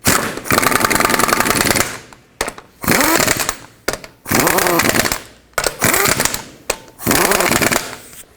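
Lug bolts are run onto a wheel of a 2001–2007 Volvo V70 with a loud impact or power tool, coming as repeated rattling bursts of about a second each, separated by short gaps.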